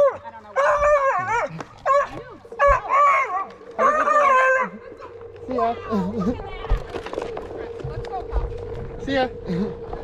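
A dog barks in repeated loud bursts on a trail at a passing onewheel rider, sharp close yips and barks over about five seconds, then quieter sounds with a person talking nearby.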